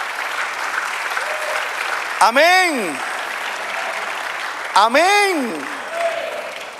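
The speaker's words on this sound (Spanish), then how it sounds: "Dale aplauso al Señor." A church congregation applauds during a Spanish-language sermon, a steady broad wash of clapping running throughout while a preacher's voice rises over it twice with sung, drawn-out exclamations.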